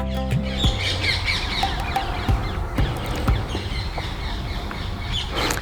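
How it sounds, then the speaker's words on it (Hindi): Birds near a large pond in Rajasthan, sounding like squawking, clucking fowl. The calls are close, loud and busy over an outdoor background, with no speech. "पक्षियों का मधुर कलरव अभी हमें सुनाई दे रहा है।"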